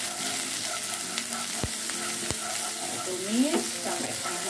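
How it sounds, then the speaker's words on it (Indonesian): Shallots and garlic sizzle as they are stir-fried in a pan, a steady close crackle broken by a few sharp clinks of the spatula, with no talking. "Kemudian kita akan tumis bumbu-bumbunya. Pertama bawang merah dan bawang putih dulu."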